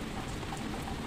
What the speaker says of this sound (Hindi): जाओ ये देखो, इतनी बारिश हो रही है,